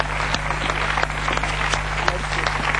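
Studio audience applauding after a blues-style song on a Romanian television music show, steady dense clapping throughout with a constant low hum underneath.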